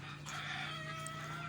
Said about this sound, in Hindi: ये आप देख रहे हो मुर्गी।